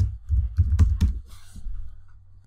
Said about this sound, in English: So I'm going to use custom and say contains, and I'm typing the word advert.